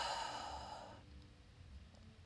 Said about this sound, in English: Taking a few deep breaths in here and some long, sweet exhales out.